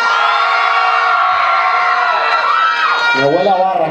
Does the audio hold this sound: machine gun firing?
no